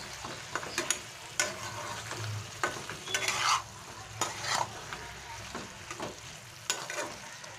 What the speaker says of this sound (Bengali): ভেজে রাখা চিংড়ি মাছটা দিয়ে দেব। দিয়ে আবারও আমি এটা মিশিয়ে নেব।